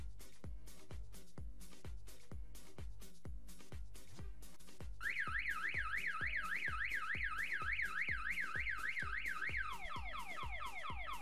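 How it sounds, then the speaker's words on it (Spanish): A homemade alarm circuit built on a printed circuit board drives a horn that beeps in a steady rapid pulse, then switches to a loud warbling siren tone that rises and falls continuously, close and alone with no talking. "Aquí ya tiene que pitar la bocina."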